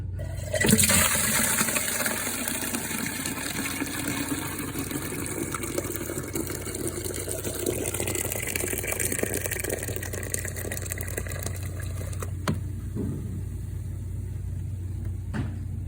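Dirty water from carpet cleaning pours and gushes out in a long continuous rushing stream, loud and close, tapering off near the end.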